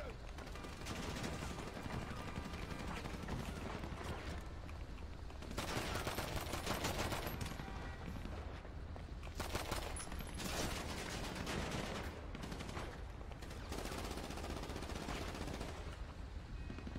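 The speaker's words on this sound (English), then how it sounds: "What's going on here? We're shooting everybody!" Dense automatic gunfire and volleys of shots from a video game escort mission, loud and nearly continuous, with bursts swelling and easing over the whole span and voices faintly underneath.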